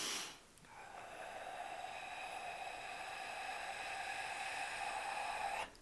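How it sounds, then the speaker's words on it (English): A long, steady exhale through the nose during meditation, a soft airy hiss that holds evenly for about five seconds, close and alone with no talking. "I'm breathing out so you can hear what I'm doing"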